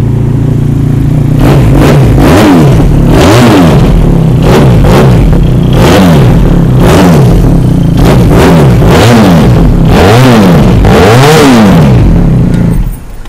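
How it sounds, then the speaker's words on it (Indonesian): A 2020 Benelli TRK502X Limited Edition twin-cylinder motorcycle fitted with an aftermarket acrylic exhaust, revved repeatedly in loud, rhythmic bursts that rise and fall about once a second, close up with no talking. "Motor ni 2 stander saja, tapi sudah lepas tukar exhaust acrylic, bunyi macam 4 stander sudah."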